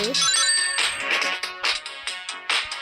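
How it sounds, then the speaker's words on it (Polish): A phone rings with a loud, bright melodic ringtone for an incoming call, its quick repeating notes close and continuous with no voices over it. "Przepraszam, że ktoś do mnie dzwoni"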